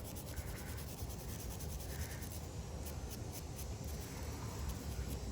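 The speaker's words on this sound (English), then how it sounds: "Well, you could use that little brush right down there. This wire brush." A small wire brush scrubs parts of a Toro Recycler lawn mower, a continuous raspy rubbing with rhythmic back-and-forth strokes, close and moderately quiet.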